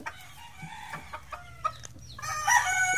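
Gamecock brothers, roosters of straight comb and pea comb types in binabay and dalusapi colourings, giving clucks and short vocal calls, with a louder, sustained crow-like call building near the end over a low background hum.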